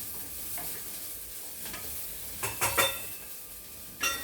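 Onions, green chilli, mustard seeds, bay leaf and cumin sautéing in a pan: a steady soft sizzle with several bursts of spatula scraping and clinking against the metal, close and alone.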